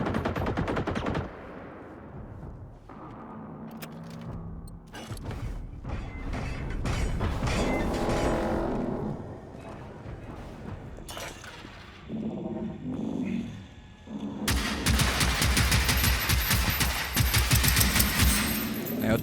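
Sustained automatic gunfire and mechanical clatter in the video game Generation Zero, loud rapid bursts broken by short pauses and reload clicks, with a final long, dense burst of shots.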